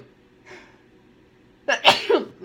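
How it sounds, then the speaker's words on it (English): A person sneezes once, with a short sharp intake of breath followed by a loud, close burst, in an otherwise quiet room. "I'm going to sneeze."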